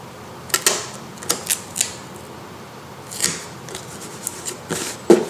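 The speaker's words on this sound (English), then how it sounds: "I'll just tape this side." Tape is applied to a handmade cardboard dice, with a series of sharp, close crackles and rips spaced irregularly over several seconds, fairly quiet and heard without any talk.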